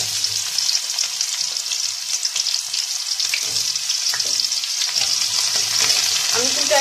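Onions fry and are stirred in oil for pigeon curry, a loud close hissing sizzle with scraping stir strokes that grows busier toward the end.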